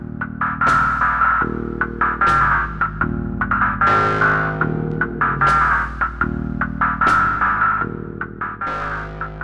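Loud electronic tones from a modular synth's sine wave, modulated by an LFO, step between pitches in a repeating pattern, with plucky attacks and a smooth, wavering quality, no voices.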